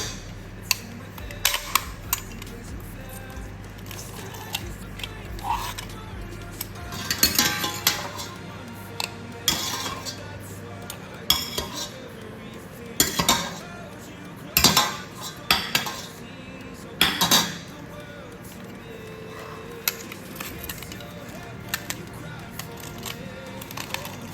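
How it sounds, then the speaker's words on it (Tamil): Boiled potatoes mashed in a vessel for cheesy potato balls, giving scattered clinks, taps and soft knocks of utensil against the pot at close range, irregular and intermittent over a low background hum. "இல்லாட்டி இப்படி இருந்தால் உருளைக்கிழங்கு பெருக்கில் போட்டுட்டு மசிக்கிறீங்க"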